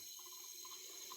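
Water runs from a toilet tank during a repair with an all-in-one toilet repair kit, a faint steady trickle and hiss, close by, with no one talking.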